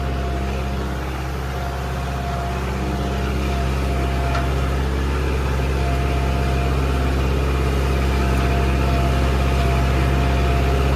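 A vehicle engine runs at a steady speed, a continuous even drone with a low hum that holds constant for the whole stretch, fairly loud and close, with no talking.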